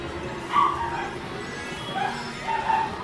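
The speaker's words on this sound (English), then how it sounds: "My dogs are squealing over there." Several dogs squeal and whimper in short yipping bursts nearby, rising and falling over a constant background noise.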